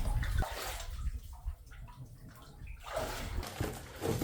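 Booted legs wade through knee-deep water in a dark crawl space, giving close, heavy sloshing surges with a quieter lull in the middle before the water churns again.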